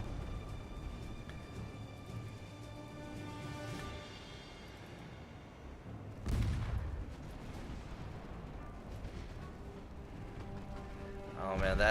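Naval guns from warships fire in Ultimate Admiral Dreadnoughts, booming blasts and rumbling impacts over a low background din, with one heavy burst midway and another near the end.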